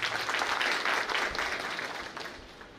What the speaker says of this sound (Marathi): खरं तर यांच्यासाठी टाळ्या झाल्या पाहिजे